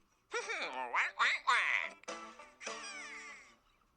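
Cartoonish duck quacking sound effect, a string of several nasal, bending quacks close and clear over about three seconds, with a short pause midway and no other voices.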